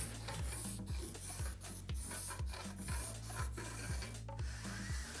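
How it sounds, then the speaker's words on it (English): A trimming knife scoring a wood slat wall panel, heard as faint, steady rasping strokes repeating at an even rhythm under a low hum. "Once you've scored right the way through that, you should just slice through quite easy with your trimming knife"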